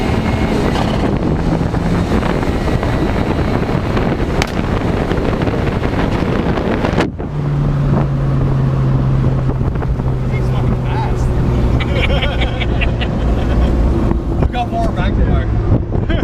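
A Mazda Miata with new spindles and dual calipers on a test drive produces a loud, continuous roar of engine and buffeting wind, joined partway through by a steady droning tone.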